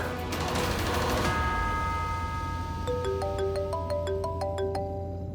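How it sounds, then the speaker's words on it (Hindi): A phone ringtone plays a repeating melodic pattern of bright electronic tones, starting after a burst of noisy clatter and continuing steadily. "भाई तू फोन मत उठा अभी।"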